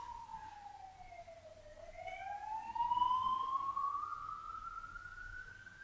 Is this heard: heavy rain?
no